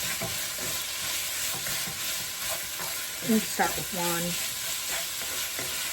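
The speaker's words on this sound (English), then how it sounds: "turn the heat down now because it's sizzling" Steady sizzling and crackling of food frying in a pan, with a few brief clinks and a short spoken phrase partway through.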